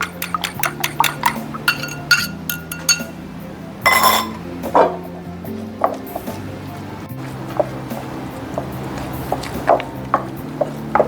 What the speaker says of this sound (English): I'm just going to scramble it before I add it to the ricotta cheese